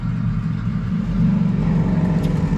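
Motorcycles rumble past outside on a nice day, a deep steady engine drone that swells slightly midway, heard from indoors with no talking.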